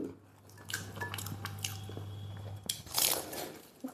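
Close, crisp crunching as the flaky pastry of a bakery egg puff in Kochi is bitten and chewed, with a low steady hum underneath and a few brittle crackles near the end.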